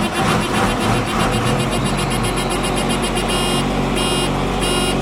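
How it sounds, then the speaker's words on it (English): Cold start of a RoGator sprayer with a Cummins engine, a loud rough diesel churn and rumble with repeated high warning beeps in evenly spaced bursts toward the end, close and continuous. "we'll see if she starts and see if we get a bit of a cold start out of her today"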